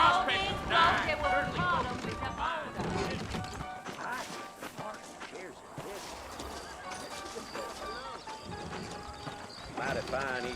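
Horse hooves clip-clop in a steady trotting rhythm throughout, with voices talking over them and a soft musical backdrop, in the video game Red Dead Redemption.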